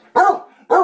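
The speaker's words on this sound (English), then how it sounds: "Dudley, stop the barking" A dog barks twice, loud and close, two sharp barks separated by a short pause.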